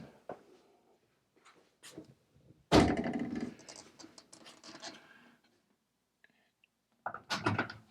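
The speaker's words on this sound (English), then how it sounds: "Putting it in the inside track on both the top and the bottom. And it slides with no obstruction" Mirrored closet door being set into its inside top and bottom track and slid, with scraping, rolling rumble and a thud, in bursts separated by quiet pauses.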